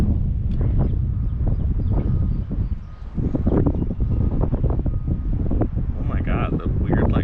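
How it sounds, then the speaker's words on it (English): Strong wind buffets the microphone in heavy, continuous rumbling gusts during a drone flight about 600 feet out, loud and close, with a brief lull partway through and a faint voice underneath. "It's really windy too."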